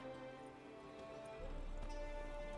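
Horse hooves galloping in The Witcher 3 game, a faint steady clip-clop under low background music, growing slightly louder midway.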